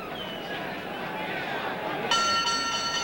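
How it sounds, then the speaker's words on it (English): A boxing ring bell ends round 6 of the Jose Napoles vs Billy Backus fight, ringing out with sustained metallic tones over a noisy, murmuring crowd. "And there's the bell."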